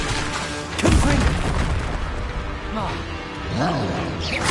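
A Confringo fire spell in Hogwarts Legacy bursts with a deep booming blast followed by rumbling fiery echoes, then a second boom near the end, loud amid a voice and game noise.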